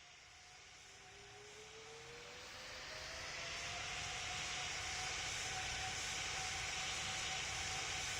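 Airliner taking off from a runway in the Roblox flight game PTFS, a steady jet engine roar that swells over the first few seconds and then holds loud and even, with a rising whine over it.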